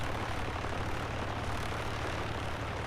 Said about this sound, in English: We have been cleared for takeoff